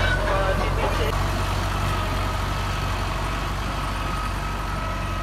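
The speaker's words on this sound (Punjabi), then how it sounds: "ਤੇ ਚਲਾਓ ਜੀ ਨਾਲੇ ਆਪਣੇ ਬਿਲਾਰਸ ਟਰੈਕਟਰ ਨਾਲ ਨਾ ਤੁਹਾਨੂੰ ਪਰਫਾਰਮੈਂਸ ਵਿਖਾਣਾ ਹੈ" A Belarus tractor engine runs steadily while levelling a field before wheat sowing, a loud continuous low diesel drone with a heavy throb that holds for the whole stretch, close by and unbroken.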